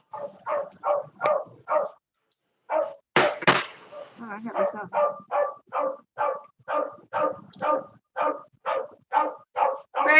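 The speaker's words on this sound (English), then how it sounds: "the dog's about to bark" A dog barks in a long, evenly spaced run of loud, close woofs indoors, pausing briefly while a person speaks a few words, then keeps going at the same rhythm.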